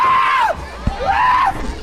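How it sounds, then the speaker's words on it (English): A professional wrestler caught in a wrist lock at a live event in Verdon lets out two loud, drawn-out cries of pain, each rising and falling, close and clear over faint crowd noise. "screaming like a girl"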